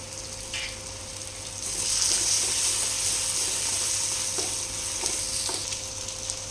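Onions sizzle in a pan with ginger garlic paste and salt while cooking a tomato egg curry, a steady close crackle that swells louder partway through as the mix is stirred, with a few faint clinks.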